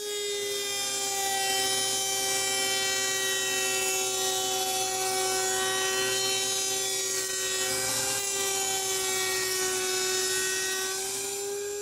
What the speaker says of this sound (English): set up my router table with a rabbiting bit to cut that small reveal